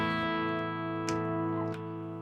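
An electric guitar plays sustained clean tones through effects pedals, a ringing chord holding steady with a couple of sharp plucked attacks, close and clear with no voices.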